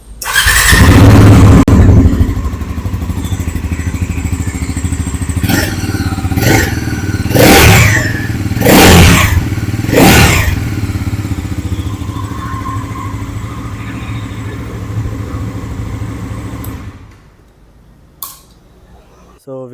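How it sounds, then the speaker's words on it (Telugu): A Bajaj Pulser NS400Z motorcycle starts with a loud crank and catch, idles steadily, then is revved in several sharp throttle blips before settling back to idle and cutting off near the end. "అండ్ నెక్స్ట్ మీకు ఈ బైక్ సౌండ్ అయితే వినిపిస్తాను,"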